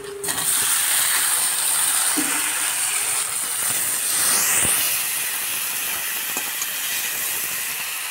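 Chopped tomato hits a hot pan after fried onion, dried red chilli and nigella seeds, giving a steady loud broadband sizzle and hiss with a few scraping clicks throughout, no talking.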